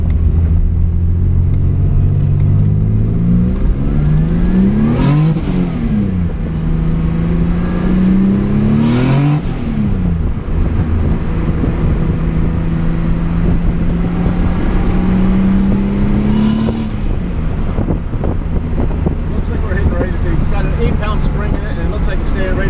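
A Chevrolet Cavalier Z24 accelerating hard, its engine rising in pitch through the revs several times with drops between shifts, loud and close from inside the car, with someone talking over it at moments.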